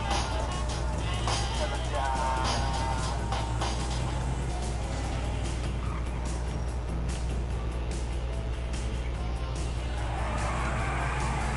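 In GTA Online, a car drives with a constant low engine drone and road rumble, with faint tyre noise and scattered game sounds layered over it.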